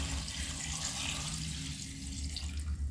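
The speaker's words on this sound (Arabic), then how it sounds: "بعد كده بقى ازودها شوية مية عشان نقلبها كويس" Tap water pouring into a cooking pot of soup, a continuous hissing splash under a low kitchen hum, no voices.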